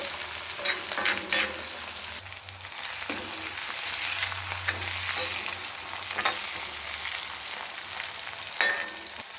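Tomatoes fry in oil with curry leaves for a cauliflower fry, giving a close, steady sizzle broken by sharp clanks and scrapes of stirring; nobody speaks.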